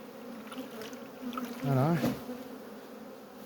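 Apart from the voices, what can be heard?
black honeybees buzzing at the hive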